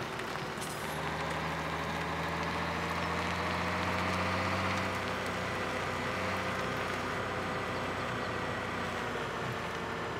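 Tractor in Farming Simulator 17 driving a seeding course, a steady droning engine hum with a constant low rumble and tonal whine, loud and even throughout with no talking.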